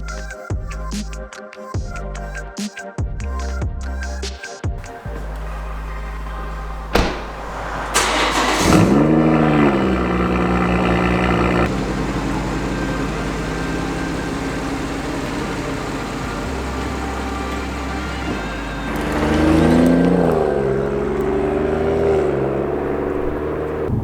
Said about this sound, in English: see what the stock intake sounds like